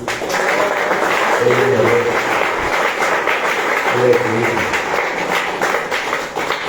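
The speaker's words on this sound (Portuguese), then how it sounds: "Palmas para Jesus." A church congregation claps in loud, continuous applause during a worship service, with voices briefly rising above the steady patter.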